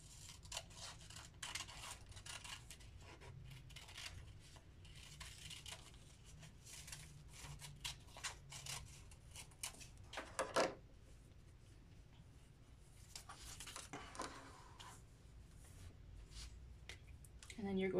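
Scissors cut a heart shape out of paper, making soft, close snipping and crinkling sounds in intermittent runs over a quiet room background, with a sharper crunch midway.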